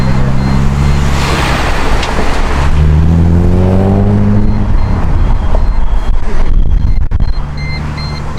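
A Mercedes SLK 350 fitted with a loud aftermarket exhaust, roaring close up with rising and falling revs as it pulls away and moves, a deep brassy growl that sweeps upward through the gears.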